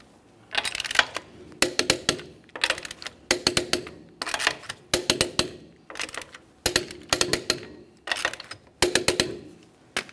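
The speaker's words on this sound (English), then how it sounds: "we're going to torque all the wheels to 80 foot-pounds in a crisscross manner" A torque wrench tightens the wheels on a Kia Forte Koup in repeated rapid ratcheting clicks, in about nine short bursts separated by brief pauses, close and without talk.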